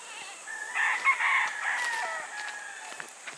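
A rooster crows at a chicken coop while hens cluck nearby, a clear, drawn-out call that rises and wavers over faint farmyard background.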